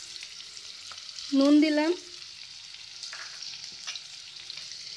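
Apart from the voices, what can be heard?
chopped onion frying in hot oil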